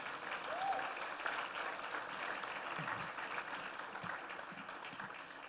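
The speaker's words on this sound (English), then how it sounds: "You can give them a round of applause for that" An audience at a Grade 11 graduation applauds the graduating students with sustained, even clapping from a large crowd, heard faintly as if from a distance.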